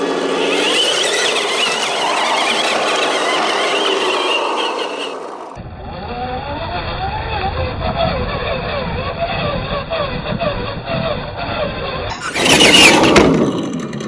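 A Traxxas TRX4 RC truck with a classic 80s Bronco body and huge tires runs on a backyard trail course, its small motor whining steadily with shrill squeals and scraping, and a loud burst near the end.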